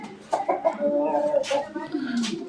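Chickens clucking at close range on a pigeon farm, a run of short throaty clucks and a drawn-out cackle, with brief background noises between calls.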